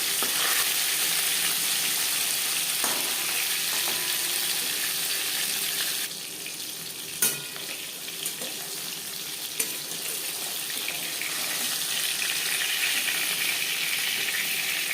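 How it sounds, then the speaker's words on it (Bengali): Pieces of katla fish fry in hot oil, producing a loud, dense, constant sizzle. It eases slightly partway through, with a couple of sharp utensil clicks, then builds again. "মাছ ভাজা হয়ে গেছে একটা পাত্রে উঠিয়ে নেবো"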